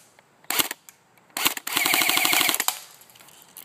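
Jg AUG military airsoft gun fired on full automatic: two short bursts of sharp rapid clicks, then a longer rattling burst of evenly spaced shots with a whirring mechanical hum, loud and close with no talking.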